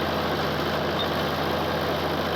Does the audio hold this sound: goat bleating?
no